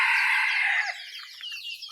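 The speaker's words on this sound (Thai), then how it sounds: "ไก่น้อยก็มีไก่ใหญ่ก็มีค่ะ" Chickens of all ages, small and large, on a Thai rural homestead make a loud, close burst of high clucking and crowing-like calls that fades into softer scattered clucks.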